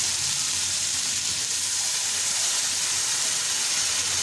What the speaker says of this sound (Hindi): 1 गिलास पानी का डालूँगी